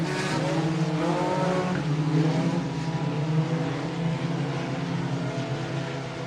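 Modified and sport compact race cars roar around the Buena Vista Raceway, a dense, continuous engine drone with shifting pitches as several cars race past together.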